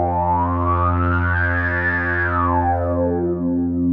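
A sustained, buzzy BP Synth tone with the envelope depth control at zero holds steady throughout, its upper overtones slowly swelling brighter and then fading back down.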